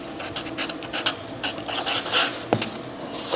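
A lawn mower that runs but won't cut is moved along, its mechanism giving off a close, uneven run of rattling, ratchety clicks and scraping rubs.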